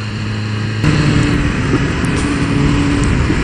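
A 2015 BMW S 1000 RR sport motorcycle revs hard under throttle on a track, a loud, close, rising engine roar mixed with wind noise.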